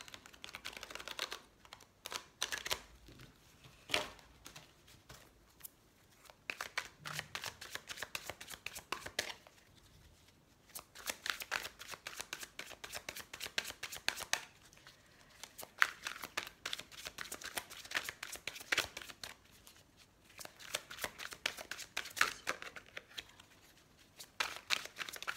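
Tarot cards from a green-magic deck being shuffled by hand, a long run of dense riffling and sliding bursts broken by brief pauses, close and fairly quiet with no talk.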